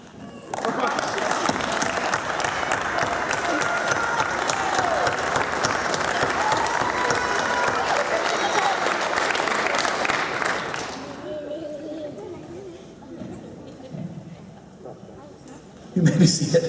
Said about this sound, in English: applaud your family members